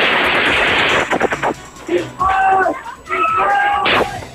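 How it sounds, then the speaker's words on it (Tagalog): Gunfire between rebels and soldiers in Zamboanga City, a loud burst of rapid automatic shots followed by scattered cracks, with people shouting over and between the shots. "Nagpatuloy ang putukan sa pagitan ng mga rebelde at sundalo."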